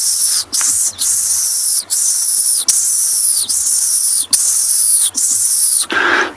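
A person makes rapid, breathy hissing calls in short repeated bursts with brief gaps, imitating a dwarf mongoose's contact call, close and fairly loud.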